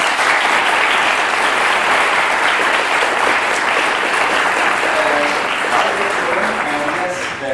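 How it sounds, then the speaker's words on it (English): An audience at an architecture presentation applauds two presenters from Gale Architects with sustained, loud, dense clapping, while a faint voice surfaces briefly near the end. "Andreas and Julia, let's give them a round of applause."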